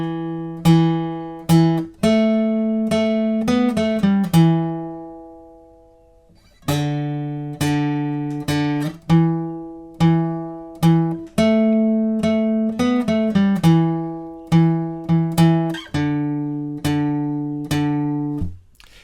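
A riff played on guitar, clean single-note phrases plucked in repeating cycles with ringing sustained notes and a brief pause midway, clear and close with no voices.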